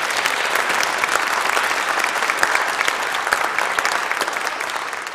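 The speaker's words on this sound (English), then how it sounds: "One more round of applause." A dense, steady roar of audience applause fills a spirituals singing event, many hands clapping at once with no break, sustained and fairly loud throughout.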